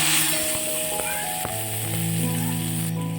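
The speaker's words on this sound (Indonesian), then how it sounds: "Lanjut goreng bahan sambal." Sambal ingredients sizzle in hot oil in a pan, a steady close frying hiss with a few soft knocks from stirring.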